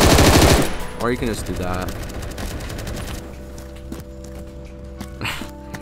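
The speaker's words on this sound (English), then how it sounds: "You can just burst this gun." Rapid burst of video-game gunfire opens loud and close, then gives way to quieter in-game sounds and steps while a player talks over it.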